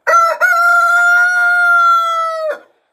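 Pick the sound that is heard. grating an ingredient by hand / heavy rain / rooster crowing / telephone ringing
rooster crowing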